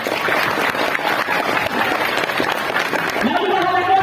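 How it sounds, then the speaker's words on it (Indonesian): Loud, dense clapping from an audience at a Maulid Nabi gathering with a motivational speaker, a close, steady wash of sound, with a voice rising near the end. "Tepuk tangan buat semuanya."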